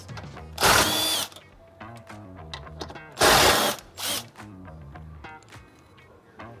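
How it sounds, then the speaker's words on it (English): An impact driver zips 11 mm bolts off the sway bar of a 2023 Tesla Model X Plaid in two loud short bursts with a rattling hammer buzz, close up, with quieter mechanical ticking and handling between them. "let's see if I can get these 11 millimeters out with my impact driver"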